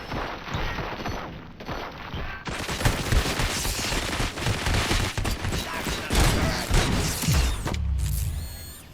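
Gunfire in the RoboCop Rogue City video game opens as a loud, close fusillade, with rapid automatic bursts and sharp mechanical clatter going on for several seconds before a sudden cut near the end.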